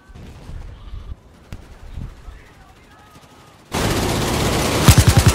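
Gunfire in the video game Battlefield 4, with faint game ambience and muffled noise giving way to a loud, sustained roar of shooting that ends in a rapid burst of shots.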